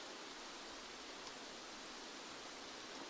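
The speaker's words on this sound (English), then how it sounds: "It's so loud from the rain." Steady, dense rain in the Escape From Tarkov shooter game, a loud, unbroken broadband hiss filling the whole stretch with no talk over it.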